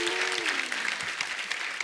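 A television comedy show's studio audience applauds, giving steady, fairly faint clapping that lasts the whole moment.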